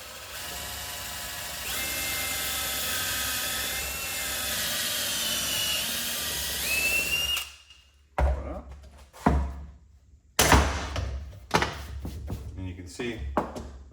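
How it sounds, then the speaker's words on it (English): A drill whines steadily for several seconds, pitch rising as it bores pocket holes in wood for a nightstand, then stops, followed by a few knocks and clatters of wood. "Now we'll grab our drill"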